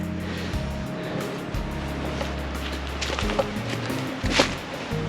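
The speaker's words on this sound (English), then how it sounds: "I'm also hearing a lot of water, so I think we're almost to the waterfall" Water rushing near a waterfall along a rocky trail in the Poconos, a broad steady wash of noise heard throughout, with a low droning rumble and brief shuffling sounds on top, no talking.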